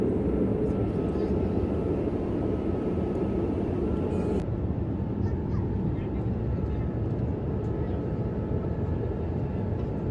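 An airplane cabin during takeoff holds a loud, steady engine roar and rush of air, with the tone dropping slightly about halfway through, continuous and close.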